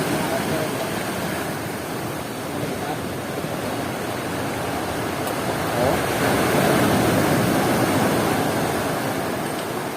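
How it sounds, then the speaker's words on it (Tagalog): Sea waves wash and churn steadily off the coast at Ternate, Kaybiang, a broad rushing noise that swells a little louder near the end and stays continuous with no clear voices. "Ah, alon to."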